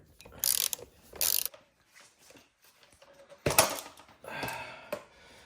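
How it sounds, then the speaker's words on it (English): A 5mm Allen key turning out bolts on a Yamaha WR250R dirt bike during a Britannia Lynx R install, giving several loud ratcheting, clicking bursts separated by quieter metallic fiddling, up close. "with your 5mm Allen key, you're gonna take out 1 bolt right here"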